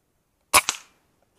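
A single sharp crack of an air rifle shot, followed almost immediately by a second smaller snap, then quiet outdoors.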